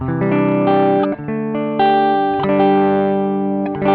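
A bright, trebly electric guitar plays short chord phrases through a ZOOM G1 X FOUR Bassman amp simulator on its bright input, with slight grit and a brief pause between strums.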